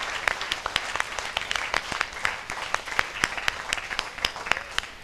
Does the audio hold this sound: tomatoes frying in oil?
no